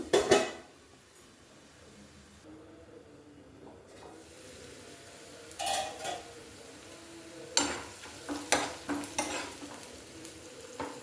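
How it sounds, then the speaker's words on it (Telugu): Onions frying in a pan for a Telugu amaranth-stem and chana dal masala curry, a quiet sizzle beneath intermittent scraping and stirring clatter of a utensil against the pan, with clusters of louder stirring strokes near the end. "ఉల్లిపాయలు వేగిపోయినాయండి."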